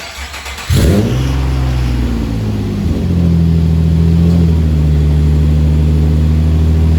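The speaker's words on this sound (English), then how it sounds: "We have a mini exhaust leak right there." A Nissan VQ V6 car engine with a small exhaust leak starts and revs loudly up close, a deep rumbling drone stepping up in pitch and holding at a steady raised idle, with no talk.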